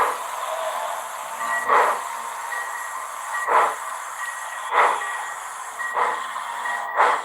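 A model train locomotive, number 3, running on a layout, giving off a steady steam-like hiss with regular rhythmic chuffs about every second or so, fairly close and without talk.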